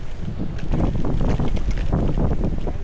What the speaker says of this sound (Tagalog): Malakas ang hangin sa grotto.